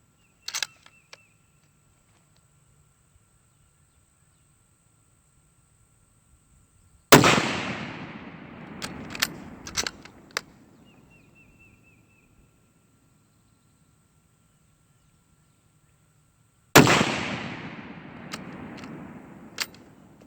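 A Ruger revolver fires two loud, close shots during load-development testing, about ten seconds apart, each a sharp blast with a long ringing decay, and near silence in between.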